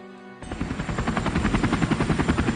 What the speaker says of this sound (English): When a helicopter enters the cloud, the sharp tips of its whirling rotor blades cut through these crystals